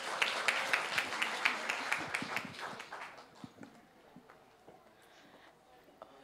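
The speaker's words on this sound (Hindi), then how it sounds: "भाई तालियाँ क्या हुई।" Audience clapping at a college kavi sammelan poetry gathering, scattered hand claps that are louder at first and thin out to sparse claps toward the end.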